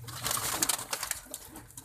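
Low-flyer pigeons coo steadily at close range over a rushing, noisy outdoor background, with soft repeated calls throughout.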